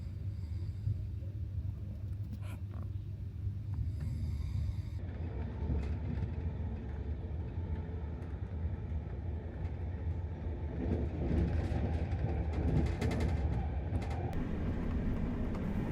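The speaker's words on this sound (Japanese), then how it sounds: "また寝台列車に乗ってガンジス川を立ち去ります。" Steady low rumble and rattle of a sleeper train rolling along the rails in India, continuous throughout with rising clatter and hiss near the end, no voices.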